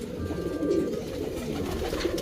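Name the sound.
pet pigeon cooing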